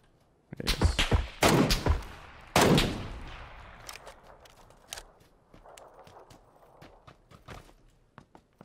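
Suppressed rifle gunfire from the southwest in PUBG, a handful of muffled shots in quick bursts early on, followed by scattered quieter clicks and footstep-like taps.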